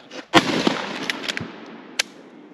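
A single sharp, loud gunshot from a bolt-action Faux Jungle Carbine rifle, close by, followed by a short decaying echo and a few faint clicks.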